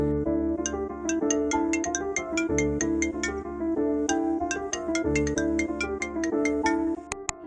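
A phone ringtone plays a bright, repeating electronic melody of plucked-sounding notes, steady and clear, continuing for several seconds with no voices.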